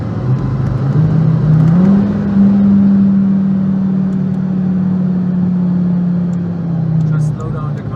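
Audi TT RS Mk1 engine with intercooler and charge cooling revving on a dyno, a steady droning tone climbing in pitch then holding for several seconds before easing off, with voices talking over it.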